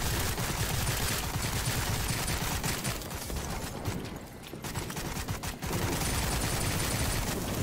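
Dense, continuous AK rifle fire in the horror shooter game Sker Ritual, rapid overlapping shots that briefly thin out near the middle and then resume at full, loud intensity.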